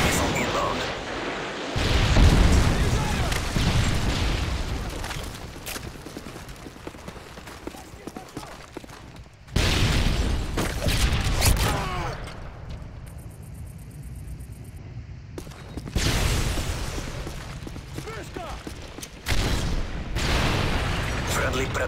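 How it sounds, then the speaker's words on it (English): Predator missile strikes in Modern Warfare 3 gameplay set off loud, heavy booming explosions in bursts that rumble and tail off, with dense battle noise and game voices in between. "Friendly Predator missile inbound."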